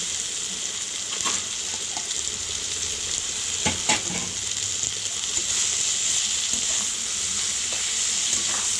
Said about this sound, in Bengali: পেঁয়াজটা লঙ্কাটা মোটামুটি ভাজাভাজি হয়ে গেছে, অনেকটাই নরম হয়ে এসেছে।